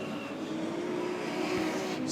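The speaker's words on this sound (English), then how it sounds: "The 2 McDonald boys flying in formation side by side down the back straight" Modified sedan race cars roar side by side down the back straight at Archerfield Speedway, a loud, continuous engine drone heard from trackside without talk.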